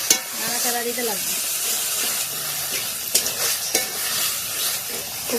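Taro leaf paste fries in a pan while being stirred, a steady close sizzle broken by sharp scrapes and clicks of the spoon against the pan, with faint voice-like tones early on.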